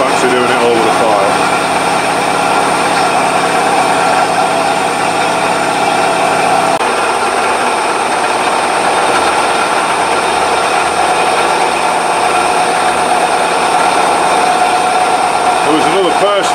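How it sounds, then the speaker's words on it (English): A bench grinder fitted with a Scotch-Brite deburring wheel runs with a steady motor hum and whir, close and loud throughout, its tone shifting slightly partway through. "Scotch-Brite deburring wheels. You know, the sort that go on your bench grinder?"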